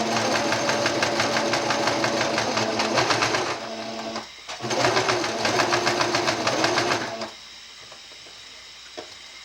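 A sewing machine runs fast while stitching a dress lining, a loud, steady, close mechanical whir. It pauses briefly, starts again for a few seconds, then stops, leaving a quiet hum.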